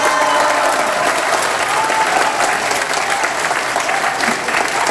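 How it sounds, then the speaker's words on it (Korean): An audience at a Korean conservative political gathering applauds steadily, a dense, even wash of many hands clapping that fills the room for several seconds without pause. "여러분 박수 한번 쳐주시겠습니까?"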